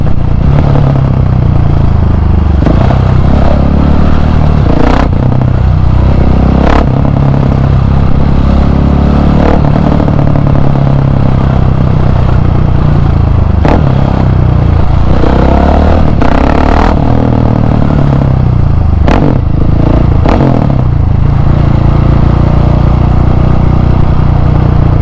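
A KTM 701 Supermoto single-cylinder motorcycle is ridden continuously close to the microphone, its engine droning and surging through clutchless shifts, with occasional sharp clicks and wind rush throughout.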